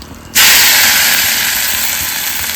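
Ground paste drops into a hot pan of oil with mustard seeds, cumin, curry leaves and asafoetida, bursting into a sudden loud, close sizzle that hisses on steadily and slowly eases.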